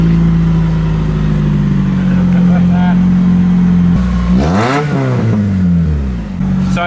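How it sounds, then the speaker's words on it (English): Car engine with a damaged exhaust, loud and close, idling with a rough drone and then giving a few sharp revs, with people talking over it. "time to fire up my car. Trevor did a good number on this exhaust"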